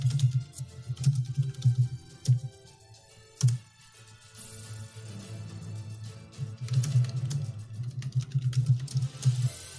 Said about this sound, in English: What are you typing?